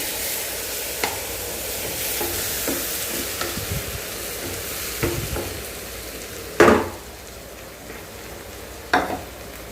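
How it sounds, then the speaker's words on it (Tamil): Onion and garlic sauté in a pan with a low, even sizzle, broken by soft stirring scrapes and two louder utensil knocks near the end. "வெங்காயம் பூண்டு வதங்கிடுது"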